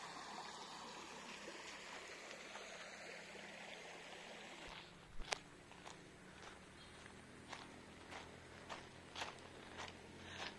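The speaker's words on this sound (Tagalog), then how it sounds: "Pero naririnig ko rin yung ilog dito." A soft, steady rush of a flowing river sits in the background, with a few scattered footsteps and light thuds nearby.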